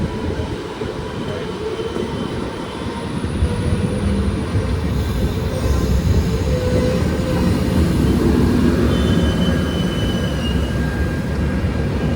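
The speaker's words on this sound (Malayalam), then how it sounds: "ഈ വണ്ടി നമ്മുടെ കൊച്ചുവേളിയിൽ നിന്ന് മൈസൂർ പോകുന്ന മൈസൂർ എക്സ്പ്രസ് ആണേ" The Kochuveli to Mysore Express, a Thiruvananthapuram division train, rolls past with a loud, steady broadband rumble and clatter that swells slightly midway and holds for the whole stretch, with no voices.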